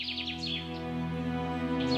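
Cartoon birds chirp as they land on a tree, with quick bright tweets at the start and again at the end over a steady musical backing.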